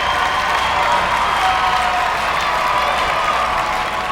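Steady applause and cheering from fans packing University Arena in Kalamazoo during the 1996 Class C volleyball state final, Hanover-Horton against Montague, a continuous dense crowd roar without pause.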